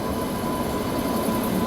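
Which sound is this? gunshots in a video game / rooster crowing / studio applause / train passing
train passing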